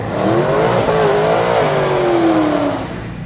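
A supercharged LSA V8 car revs hard and loud, its engine note climbing and then easing off over a steady roar at a drag-racing shootout.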